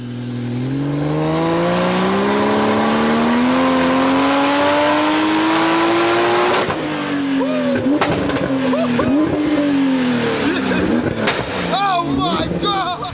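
A tuned Porsche 911 Turbo S making 888 bhp roars loud and close, its engine pitch climbing steadily under acceleration before shifting and revving in bursts, with a voice talking over it.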